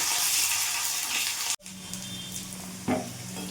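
Garlic and dried red chillies sizzle and fry in hot oil in a pan, a dense steady hiss that cuts off abruptly, then a quieter crackle with a brief stir or clatter.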